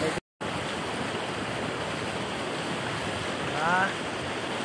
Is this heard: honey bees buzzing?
no